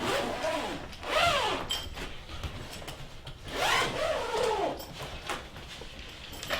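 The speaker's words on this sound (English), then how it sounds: "Good zippers." A zipper on a gaming accessory bag's front section is pulled open in two long rasping strokes, close and fairly loud, with softer handling rustle between them.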